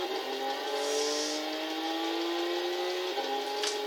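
Engine of a Volkswagen Golf IV R32 racing in Gran Turismo 6, a sustained rising whine under load with a brief shift dip near the end, steady and fairly loud.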